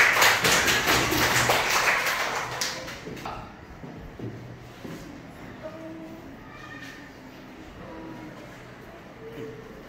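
Schoolchildren in a first-grade classroom clapping: a brief burst of many hands applauding together at the start, fading out after a couple of seconds into quiet room noise with faint children's voices.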